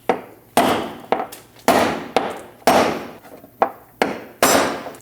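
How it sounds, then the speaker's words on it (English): Sharp metallic hammer blows strike a brass punch about ten times at an uneven, steady pace, each hit ringing briefly before the next, loosening a fuel tank sending unit lock ring on a Dodge Durango. "We're gonna hit the back of our punch with a hammer."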